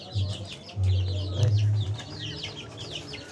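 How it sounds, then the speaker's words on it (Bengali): Hens on a small home chicken farm cluck in low, repeated bursts nearby, with a few fainter bird calls around them and a person speaking briefly. "এখানে একটা মুরগি কুচে বসিয়েছি"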